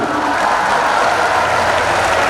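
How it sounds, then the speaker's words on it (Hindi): Audience applause at a Hindi kavi sammelan poetry gathering, a dense, steady wash of many hands clapping without pause and no voices over it. "तालियां धीरे धीरे आएंगी आपकी"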